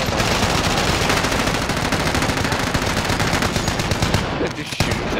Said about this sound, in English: They're just shooting dead bodies.